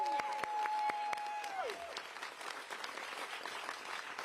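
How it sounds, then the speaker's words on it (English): An audience at a New York City event with Mayor Eric Adams applauds, a fairly soft wash of clapping and crowd noise, while a sustained electronic tone sounds briefly at the start and slides downward. "give yourselves a round of applause"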